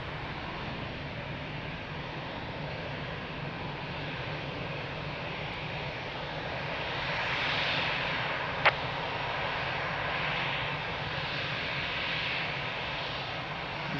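A jet airliner in Star Lines livery at Lisbon Airport gives a steady, distant broadband engine roar that swells slightly midway, with one brief click.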